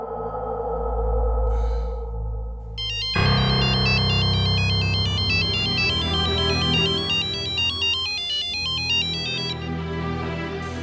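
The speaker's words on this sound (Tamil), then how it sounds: "உனக்கு ஏதோ கால் வந்திருக்கு பாரு" A mobile phone rings with an incoming call, its electronic melodic ringtone starting after a low tone and repeating loudly and steadily for several seconds, close by with no talk.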